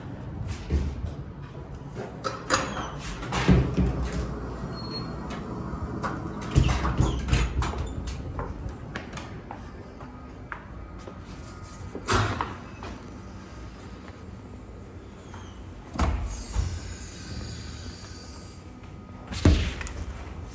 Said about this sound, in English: I'm just filming the automatic door.